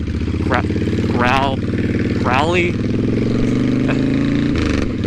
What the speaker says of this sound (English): I believe this exhaust is aftermarket. I don't think the stock one sounds as growly.